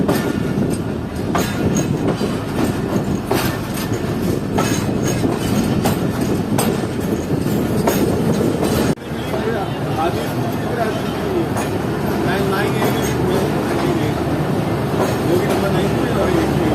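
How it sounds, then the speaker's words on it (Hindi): Passenger train pulling into platform 4 at Rohri Junction, steady wheel rumble and clatter from inside the carriage throughout, with people talking over it. "तो इस वक्त हमारी ट्रेन पहुंच रही है रोड़ी जंक्शन के प्लेटफॉर्म नंबर 4 की तरफ"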